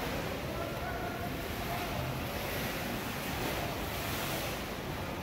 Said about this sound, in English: The pool in the solarium also had impressive waves as the ship rocked back and